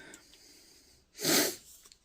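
One quick, breathy sniff from a person with a cold rises out of near silence, close and moderately loud, followed by faint soft breathing.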